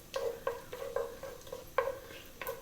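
Whole cinnamon, coriander, cumin seeds, chili and cloves dropped into hot oil, giving a series of sharp, close sizzling crackles in quick bursts with no voices.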